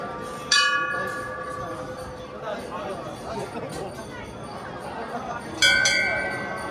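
Two clear rings of a metal temple bell at Omkareshwar, one near the start and another later, each ringing out and fading over a murmur of crowd chatter.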